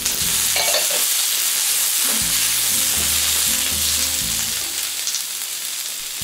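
Beef stir-fry with onion, peppers and mushrooms sizzling loudly on a hot plate, a continuous close frying hiss with scraping stirs throughout.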